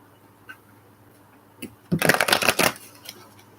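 A deck of tarot cards is shuffled up close, a few soft taps and flicks first, then a rapid riffling burst of fluttering card slaps lasting under a second before fading to quiet.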